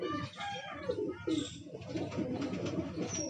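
Pigeons coo softly in steady overlapping murmurs just after being released, close by, under a mild background hum with a faint voice present.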